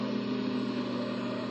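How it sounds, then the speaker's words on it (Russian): Helicopter engine in the Call of Duty Mobile video game, a steady mid-pitched mechanical drone humming continuously and evenly for the whole moment, with no voices over it. "вертолет это"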